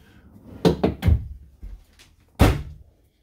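Solid wood pull-out drawers in a 2020 Bighorn fifth wheel RV, opened and shut with close, sharp wooden thunks: a quick cluster of three knocks, then a single firm one, with quiet between.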